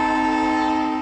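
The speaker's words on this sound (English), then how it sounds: "when that train whistle blows" A train whistle blows in a loud, sustained, steady tone, close and alone, with no talk over it.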